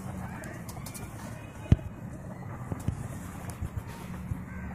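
Pigeons at a pigeon club coo softly at a distance amid quiet outdoor ambience, with a few sharp taps and knocks scattered through the short stretch.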